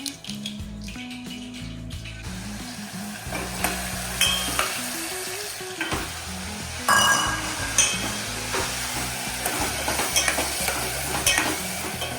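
Food sizzles and crackles as it fries in a hot pan while making kadhi, with stirring and occasional clinks of a utensil against the metal, close by.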